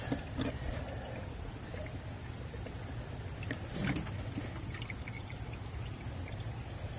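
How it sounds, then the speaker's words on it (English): Fuel drains and splashes beneath an RV during a fuel filter change, a steady soft pouring trickle with a few brief drips and knocks, faint and unbroken. "Bunch more fuel is draining out, I can hear down below."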